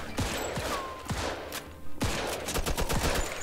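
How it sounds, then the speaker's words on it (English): Gunfire in the game Mafia II, several sharp, loud shots in quick succession with echoing tails, fired in short bursts close up. "Okay, I shot someone."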